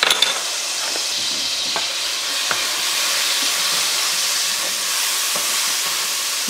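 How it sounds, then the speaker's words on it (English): Minced garlic sautéing in bacon grease for a cheese tortellini carbonara, giving a steady, close frying sizzle throughout with a few soft stirring clicks and no talking. "we're going to do 2 teaspoons of the minced garlic. We're gonna saute that for just a minute."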